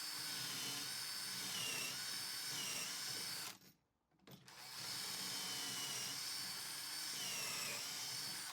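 A drill bores pocket holes through a jig in a workshop, a steady high whine in two long runs split by a brief pause, heard close with no talking.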